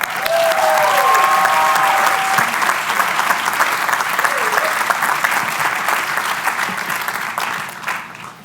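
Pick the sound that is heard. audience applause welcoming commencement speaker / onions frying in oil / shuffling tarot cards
audience applause welcoming commencement speaker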